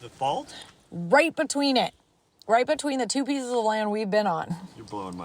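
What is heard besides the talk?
None of the usual background noises is heard.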